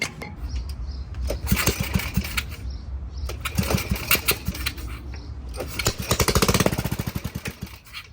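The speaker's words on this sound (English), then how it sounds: "Okay, so the engine is not dead." A rusty go-kart's small engine coming back to life after sitting with old gas, sputtering and popping with uneven bursts before settling into a loud, rapid putter that fades toward the end.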